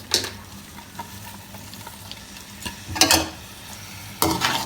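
Chopped coriander being stirred into spiced achari aloo bhujia in a pan: a soft background sizzle broken by a few louder scraping bursts of the spoon against the pan, close by and without voices.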